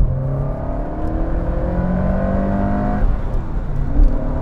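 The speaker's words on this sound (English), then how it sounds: "Full throttle. So much turbo lag." Lancia Delta Integrale restomod, a turbocharged 90s rally hatchback with full-time four-wheel drive, accelerating at full throttle from inside the cabin: a loud, steady rising engine drone with a brief dip partway through, no voices.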